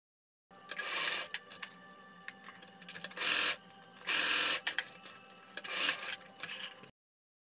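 A sewing machine top stitches a folded-back edge on a sleeveless gathered tiered dress, running in several short, close bursts separated by brief pauses.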